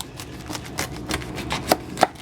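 A knife slices down through the thick core of a cabbage being prepared for sauerkraut, producing a series of crisp, close cutting crunches that grow sharper toward the end, with no voices.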